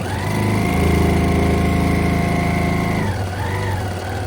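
Sewing machine motor running steadily as it stitches down the edges of a fabric face mask, a loud continuous whir that slows and shifts pitch near the end.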